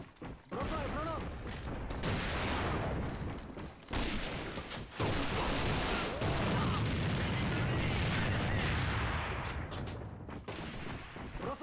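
Gunfire and explosions rumble through an AVA online shooter match, a grenade blast among heavy booming and crackling shots that fill nearly the whole stretch, loud and continuous with brief gaps.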